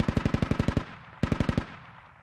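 A vehicle-mounted machine gun fires in the military shooter game Squad: two rapid bursts of about eight shots each, loud and close, separated by a short pause, with the second burst trailing into a fading echo.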